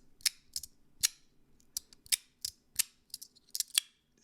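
Slider fidget toy, Wanwu Studio Yin Tiger or Bulletproof Shield type, sliding without Teflon tape: a series of sharp, crisp metallic clicks and snaps at irregular intervals, close and alone in a quiet room.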